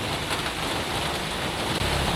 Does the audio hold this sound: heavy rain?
yes